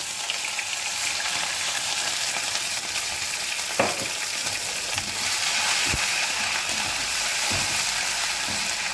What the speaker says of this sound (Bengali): আদা কাঁচা লঙ্কা একটু ভাজা ভাজা হয়ে গেছে